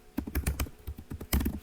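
Fingers type on a computer keyboard with a quick, uneven run of roughly a dozen close clicky keystrokes, entering a Ctrl+F search in Excel, with no voice over the keys.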